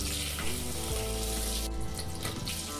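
Cinnamon, cloves and cumin sizzle in hot oil and homemade butter inside a pressure cooker on a gas stove, a continuous close crackling hiss with no talking.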